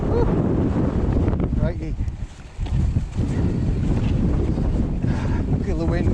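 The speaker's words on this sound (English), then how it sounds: "Feel the wind pushing me, but I'm going to push back on it." Strong wind from Storm Kathleen roaring across an exposed, wet and muddy ride, a loud continuous buffeting rumble against the microphone with a short lull midway, and a voice speaking briefly over it.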